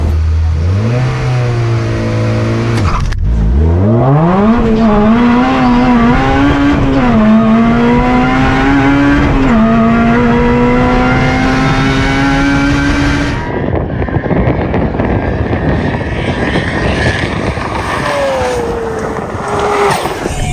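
Roaring drag racing cars, an 800 hp R34 Skyline and a 400 hp K20-engined Mini, accelerate hard, revving up through rising gears, then a second loud engine screams past, all very loud and close.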